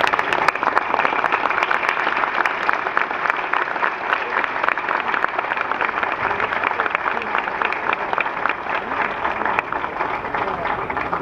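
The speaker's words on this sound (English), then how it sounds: "Please join me in saluting him with a round of applause." At a Caltech commencement ceremony, an audience gives a sustained round of applause to an honoured guest. The clapping is broad and continuous, fading only slightly toward the end.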